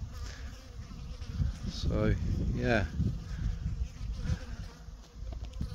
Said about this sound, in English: Oh, hello bee